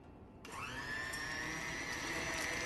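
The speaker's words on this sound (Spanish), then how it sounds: "Con la ayuda de una batidora vamos a batir esta mezcla" An electric hand mixer whirs up after a brief quiet moment, then holds a steady high-pitched whine as it beats an egg batter for almond sponge cake, fairly close, with no talking.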